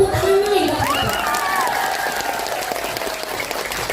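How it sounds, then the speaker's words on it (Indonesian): An audience at an Islamic religious gathering breaks into dense, sustained applause at close range, with a voice sliding over the clapping early on. "Tepuk tangan nih Pak."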